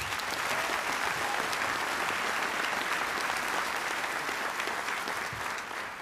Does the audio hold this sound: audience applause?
yes